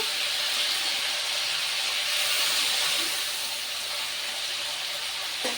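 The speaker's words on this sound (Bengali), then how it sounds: "একটু লালচে করে ভেজে নেব" Cauliflower florets sizzle and hiss steadily in hot oil while frying until reddish, a dense continuous crackle close up and fairly loud throughout, with no voices.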